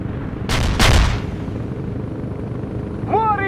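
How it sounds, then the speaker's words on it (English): Artillery strike explosions in the war video game World in Conflict: two heavy booming blasts in quick succession, loud and near, followed by low rumbling battlefield noise and a faint whistling tone. "Our barrage hit the target. Artillery strike on the way."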